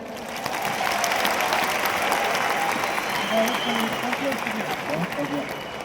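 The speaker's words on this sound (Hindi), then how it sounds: "आप सब अपने लिए एक बार तालियां बजाएं।" An audience at a Delhi university program event claps for itself in a sustained, dense round of applause, fairly loud and even, with scattered voices under the clapping.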